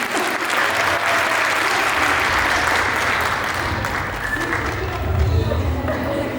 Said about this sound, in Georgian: მოდი გამხნევეთ ბავშვებო ტაში